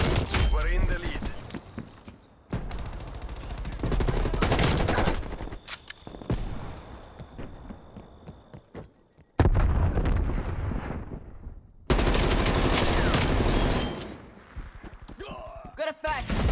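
Rapid gunfire and explosions in a Call of Duty: Black Ops Cold War deathmatch on Nuketown, loud bursts of automatic fire broken by short pauses, with game voice lines and talk over the battle.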